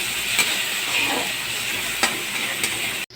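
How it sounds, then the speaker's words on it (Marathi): Green chillies and tomatoes fry in a pan with a steady bright sizzle, broken by a few sharp stirring scrapes. The sound is close and continuous, with no talk. "त्यामध्ये टाकूया हिरवी मिरची, त्यानंतर टोमॅटो टाकले यामध्ये."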